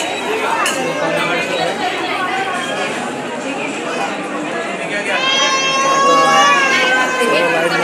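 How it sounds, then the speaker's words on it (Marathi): Dense crowd chatter at a busy Hindu temple (math), many overlapping voices close and steady throughout, with clinks and a brief whistle-like tone near the end. "खूप गर्दी आहे, तुम्ही बघू शकता."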